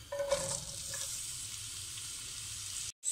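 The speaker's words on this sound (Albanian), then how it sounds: "fillojmë dhe i hedhim në tiganin me vaj ulliri, duke filluar nga qepa" Chopped onion sizzles steadily in olive oil in a pan as it fries for an Albanian pasta sauce, with a brief stirring clatter near the start and a sudden short cut-off just before the end.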